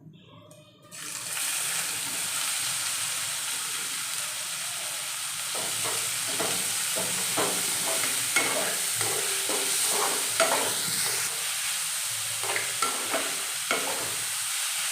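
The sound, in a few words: sautéing chopped onions with dried red chilies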